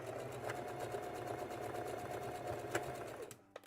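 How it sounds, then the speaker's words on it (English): Sewing machine stitching over a seam line on a McCall's M8383 dress, a quiet steady run of rapid close stitching that stops abruptly near the end. "I am gonna stitch right over that"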